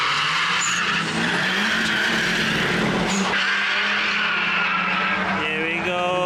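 A VW Caddy Mk1 with a turbocharged 1.8 20V engine drag racing an Amarok on a drag strip, loud sustained engine roar with tire noise, ending in rising revs as the run continues.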